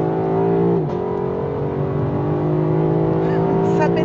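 Lexus LC500 coupé engine and exhaust, a steady raspy, throaty drone with a slight dip in pitch near the start, held close and loud without pause.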